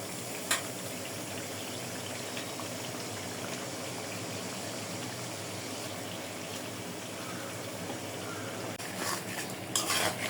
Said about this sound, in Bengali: মশলাটা ভালোভাবে কষায় নিছি মাছ দিয়ে দেবো